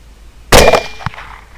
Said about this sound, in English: So I'm going to go ahead and shoot this hog.